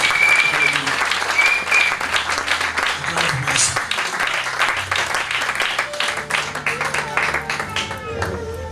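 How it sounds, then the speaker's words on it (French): Church congregation applauding for Jesus during a worship service, dense sustained clapping from a crowd, loud and close, with voices mixed in throughout. "Acclamons Jésus."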